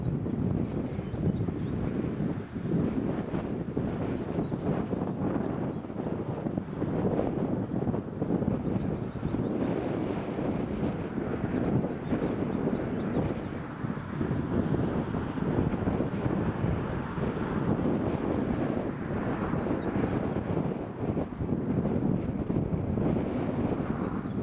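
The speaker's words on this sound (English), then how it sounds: "the wind's just increased a lot." Strong wind buffeting at Newcastle Airport, a continuous heavy rumbling roar across the microphone that stays steady throughout with no talk.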